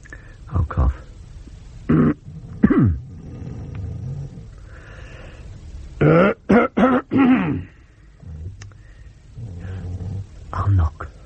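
A person coughs and clears their throat in several rough, rasping bursts spread out between quieter stretches, close and fairly loud, with a growly, throaty quality.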